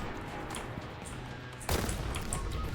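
Boltgun fire from the Warhammer 40K Boltgun shooter game comes as loud rapid volleys of heavy shots, packed into a dense continuous barrage that swells sharply partway through, up close and without talk.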